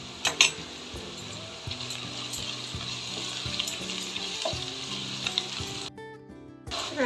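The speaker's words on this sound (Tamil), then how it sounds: "வெங்காயம், பச்சை மிளகாய் சேர்த்துக்கலாம். நல்லா வதங்கட்டும்." Sliced onions and green chillies sizzle in hot oil with whole garam masala while a spoon stirs and clinks against the pan, a steady close-up frying hiss.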